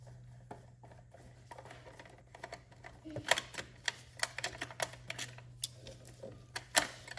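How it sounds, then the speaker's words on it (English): Top bolt being undone on the sprocket guard of a motorcycle as an Ozminis kickstand goes on: a series of sharp, irregular metallic ticks and clicks from a wrench, close by over a steady low hum. "we're going to start off with unbolting the old sprocket guard. So you just undo the top bolt."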